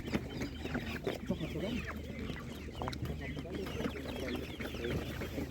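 Chickens, including young dominant-breed hens, cluck and chatter steadily at an animal market in Ivano-Frankivsk, a busy layered flock sound with people talking nearby.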